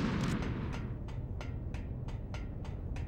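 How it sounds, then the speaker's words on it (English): Repeated grenade blasts in a first-person shooter relay race, landing roughly every third of a second as a steady run of sharp bursts over a dense, continuous rumble of battle noise. "for the descent he is cooking grenades and just releasing them to make this fairly simple"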